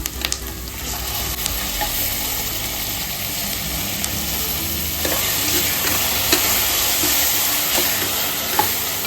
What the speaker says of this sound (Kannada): ಮಸಾಲೆ ಆ್ಯಡ್ ಮಾಡಿಕೊಂಡು ಇದು ಸ್ವಲ್ಪ ಹಸಿ ಹೋಗೋವರೆಗೆ ಮಿಕ್ಸ್ ಆಗಲಿ, ಅಲ್ಲಿವರೆಗೆ ಫ್ರೈ ಮಾಡ್ಕೊಳ್ಳೋಣ